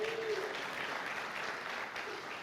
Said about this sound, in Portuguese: Uma salva de palmas para esse jovem lindão aí, ó.